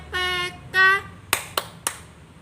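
Children call out two short tones of a classroom clapping chant, followed by three sharp, separate hand claps, close and fairly clear.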